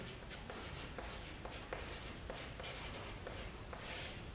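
Chalk or marker writing on a board during a physics lesson, a quiet rhythmic series of short scratchy strokes and taps over a steady hiss of background noise, close and faint.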